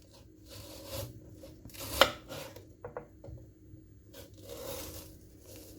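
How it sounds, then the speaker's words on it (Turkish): Peeled, washed onions are cut with a knife on a board, giving a few distinct chops and scrapes with quiet pauses between, close and fairly soft; no talking. "Soğanları soyup güzel yıkadım. Şimdi soğanları bölelim."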